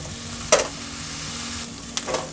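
Kinpira side dish stir-fried in a pan, a soft steady sizzle broken by two sharp scraping stirs of a utensil against the pan.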